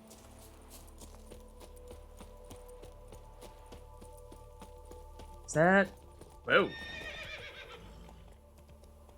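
Horses in The Witcher 3 give two sharp, loud whinnies in quick succession over a steady in-game ambient hum, with someone speaking briefly nearby.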